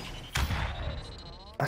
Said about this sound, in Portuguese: Essas bombinhas chatas demais